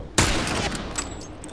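Gunfire in The Last of Us Remastered, a single loud sharp blast followed by a ringing, crackling decay that fills the short clip.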